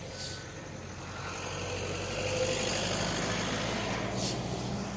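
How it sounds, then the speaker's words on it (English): A car passing by outdoors, a low engine and tyre rumble that swells gradually and holds steady at moderate distance, with no talk over it. "there's a car just like going by"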